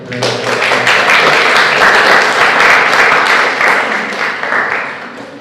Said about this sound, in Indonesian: Dan tepuk tangan mulai.